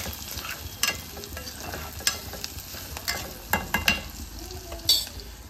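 Chilli and onion frying in a pan, a soft continuous sizzle broken by sharp scraping clicks as a spoon stirs against the metal at irregular intervals.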